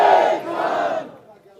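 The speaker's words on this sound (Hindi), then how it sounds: "एक नारा दोनों हाथ उठा करके लगा दो, जेपी दलाल मुर्दाबाद, जेपी दलाल मुर्दाबाद" A large crowd at a farmers' mahapanchayat roars a political slogan in unison, loud and close, the shout swelling and then fading out within about a second.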